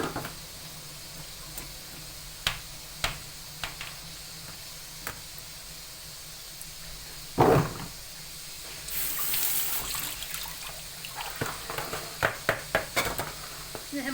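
Drained eggplants are tossed and mixed by hand in a basin while preparing Antep tava. Soft wet shuffles and scattered light clicks come through, with one louder rustle midway and a steady background hiss.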